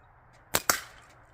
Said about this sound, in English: So here comes the first 5 shots.